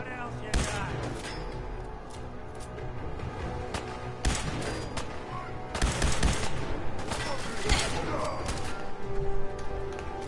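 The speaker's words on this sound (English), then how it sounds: "Who are you shooting at?" Gunfire from the video game Fallout 4 in repeated bursts and single shots, loud and close, with heavy booming hits mixed in over continuous game ambience.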